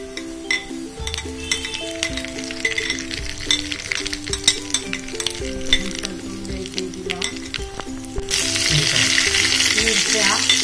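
Cumin and mustard seeds sizzle in hot oil while tempering for instant dhokla, a steady crackle with clinks of utensils and faint background music, the sizzle swelling louder and brighter near the end.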